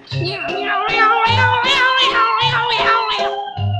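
A cat meows the count on a 1953 children's counting record, a string of drawn-out, wavering meow-like calls in a steady rhythm over orchestral accompaniment with a low bass beat.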